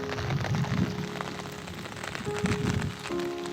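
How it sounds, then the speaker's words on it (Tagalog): Rain falls steadily over a flooded, low-lying rice field. A dense, close patter on water and wet surfaces carries on without pause, with a low rumbling beneath it. "Sana tumigil na ang ulan"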